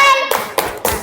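A grade 4 class claps for group 3, with three loud, distinct bursts of clapping set against a faint tonal hum.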